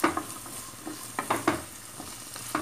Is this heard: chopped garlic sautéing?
yes